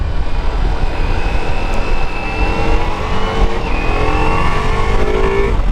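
A Ducati Multistrada V4S Pikes Peak V4 motorcycle pulls steadily, its engine note climbing through quick-shifter gear changes over loud wind rush, heard close from the rider's position.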